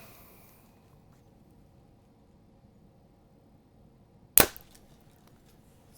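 Hoyt Ventum Pro 30 compound bow releasing an arrow, a single sharp loud snap after several seconds of near silence, followed by a brief fading ring.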